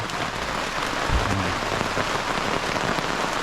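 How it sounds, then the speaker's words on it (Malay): Rain falls steadily on a camping tent at a campsite, a dense, even patter that fills the whole short stretch with no voices. "So hujan masuk."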